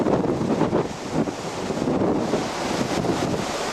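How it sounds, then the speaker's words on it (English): Strong wind roars and buffets across the microphone on a cruise ship's deck in Alaska in continuous loud gusts, with a faint wash of water underneath and no voices. "Right now I'm standing on the deck and real windy and the boat's just a-shaking"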